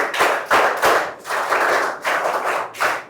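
An audience claps steadily in bursts to congratulate a student ranked at an event with the Chief Minister and minister Nara Lokesh in Rampachodavaram, the clapping loud and close with brief dips between waves and no talk.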